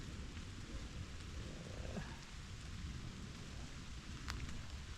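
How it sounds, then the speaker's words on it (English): Light drizzle falls steadily during an outdoor walk between Elstead and Milford, a soft continuous patter with a faint chirp partway through, fairly quiet and with no talking. "Well, it's fair drizzling it down"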